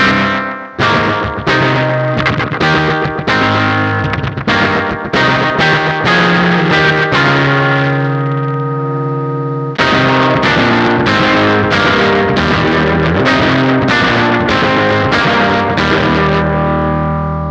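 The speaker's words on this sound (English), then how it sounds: "as we start to turn the blend up, we're gonna get a louder and louder delay in comparison with our dry signal." Plucked instrument notes run through a delay effect with the blend turned up, repeats growing loud against the dry signal, with a ringing sustained chord in the middle and dense echoing phrases on either side.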